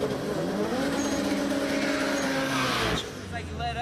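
A drag race car accelerates hard through its gears, loud engine pitch climbing then cutting off near the end, with commentary running underneath.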